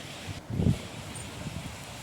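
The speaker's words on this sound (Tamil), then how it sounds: "காற்று வேற உசு உசுன்னு அடிச்சுக்கிட்டே இருந்துச்சு எக்கச்சக்கமாக." Strong wind blows outdoors near a house doorway, a steady rushing with a brief louder gust buffeting the microphone early on, then settling back to a low, even roar.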